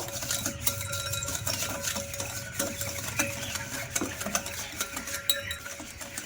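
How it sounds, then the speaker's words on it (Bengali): Oil being stirred into an eggless sponge cake batter in a bowl, a steady scraping, clinking whisk-and-spoon rhythm against the bowl that carries on close and continuous throughout. "ভালো করে মিশিয়ে নেব"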